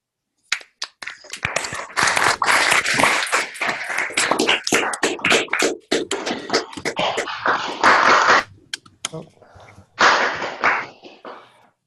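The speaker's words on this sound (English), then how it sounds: "I will unmute everyone now so we can all applaud" Online audience applauding at the end of a talk on computer-generated proofs, many scattered claps building to dense steady applause, then thinning into separate bursts with short gaps near the end.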